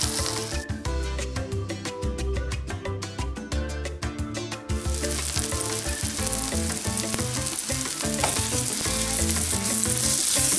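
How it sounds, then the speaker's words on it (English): Bananas frying in melted butter in a pan, a steady sizzle with a bright hiss that grows fuller partway through, heard under rhythmic background music. "Now that the butter melts, we're gonna place our bananas. We wanna fry them just to get a little brown."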